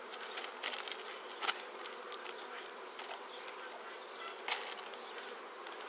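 Honeybees buzzing inside an opened hive among the frames, a steady dense hum with individual bees darting close past now and then, no voices.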